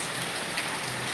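Heavy rain pours and splashes close by near a water tank, a dense, steady hiss of water hitting surfaces that fills the whole moment without pause.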